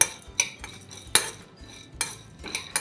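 Whole cloves and spices being dry-roasted and stirred in a pan, heard as a series of sharp metallic scrapes and clinks of a spoon against the pan at an uneven rhythm, close by with little sizzle.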